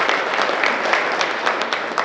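An audience at a Diwali magazine competition prize ceremony applauds loudly, with dense continuous clapping filling the whole moment.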